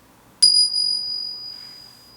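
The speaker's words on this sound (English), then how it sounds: "ring the bell and you just stay quiet and you listen for as long as you can hear the bell" A small dolphin-shaped meditation bell struck once, a bright clear ding that rings on and slowly fades into quiet, heard alone and close.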